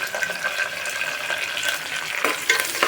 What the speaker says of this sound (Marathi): असं थोडं कांदा लाल करून घ्यायचं आपल्याला।